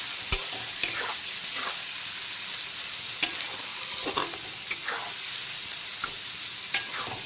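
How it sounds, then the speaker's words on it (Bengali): Chopped onion frying in a pan for a prawn bhuna, a steady sizzle under periodic scraping stirs of a spatula, with sharp clicks against the pan every second or so. "পেঁয়াজ কুচিটাকে ভালো করে ভেজে নিতে হবে"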